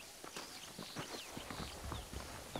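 Horse hooves clip-clop in Red Dead Redemption, a quick run of close, clear hoofbeats over a busy low background with no talking.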